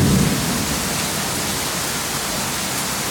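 Strong thunderstorm over central Oklahoma pours heavy, flooding rain, a loud, dense, unbroken roar of water filling the whole stretch with no pauses.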